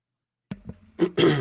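A short burst of rough, throaty coughs, three or four in quick succession, getting louder toward the end, close and with no talking.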